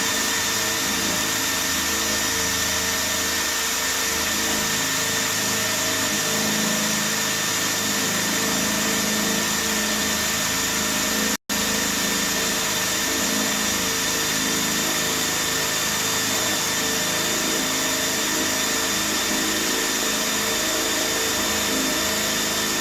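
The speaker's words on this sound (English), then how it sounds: "Alright, here is the Milwaukee 1/2 drill bit." A power drill fitted with a Milwaukee 1/2 bit runs in a steady, loud, unbroken whine and grind for over twenty seconds, stalling without cutting, with one momentary dropout midway.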